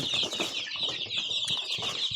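A crowd of 22-day-old Leghorn chicks chirps continuously, their high, thin peeps overlapping in a busy, constant chorus.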